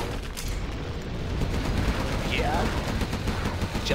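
Continuous battle din of video game gunfire with rapid shots and booming impacts, dense and steady throughout, with voices mixed in underneath.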